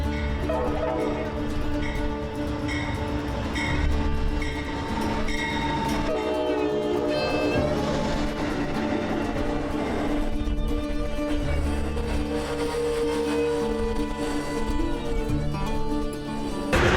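Aboard the Amtrak Cardinal passenger train leaving Ashland, Kentucky, a steady rumbling ride with rhythmic clatter and a horn sounding partway through.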